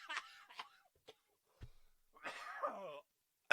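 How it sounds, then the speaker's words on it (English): Repeated harsh coughs break out in bursts, a few sharp hacks followed by a longer raspy fit and a final loud cough, close to the mic during a podcast recording. "That cough just kept rolling."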